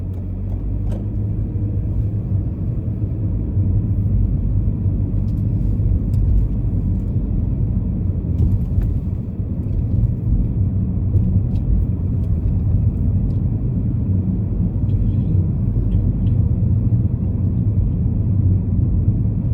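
A learner's car pulls away during a UK driving test in Chingford, with a steady, close engine and road rumble inside the cabin, continuous and even throughout, with no talk.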